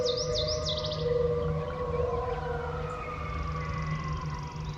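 Coyotes howl at dawn in the wild: long, wavering, sliding howls rising and falling together in a chorus, fairly distant, with a few high bird chirps early on over a steady low background rumble.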